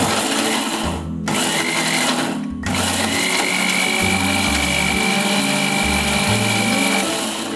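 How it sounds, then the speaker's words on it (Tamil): A kitchen mixer grinder whirs loudly while grinding spicy kaara chutney. The motor runs in steady bursts with two brief stops, and its hum pulses in low surges throughout. "மிக்சியில் இப்போ போட்டாச்சு, இப்போ தான் அரைச்சிடலாம்"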